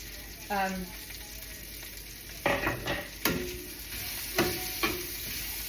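Garlic and onions fry in a pan with a steady sizzle, broken by a few sharp scrapes and clatters of a utensil stirring against the pan.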